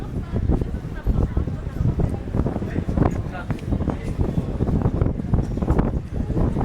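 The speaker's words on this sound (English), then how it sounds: "If you're wondering what the weather's like right now, it just got like really windy." Strong gusts buffet the microphone on a Japanese shopping street under an overcast sky, producing a steady low roar with rumbling bursts throughout.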